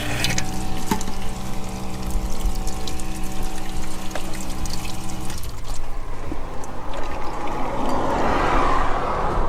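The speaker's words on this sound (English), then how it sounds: "Let's turn the pump on over here. It's a bit noisy, but it does work." A small water pump runs with a steady tonal hum at a camper van sink, then cuts off midway as water pours and splashes into the basin, close up.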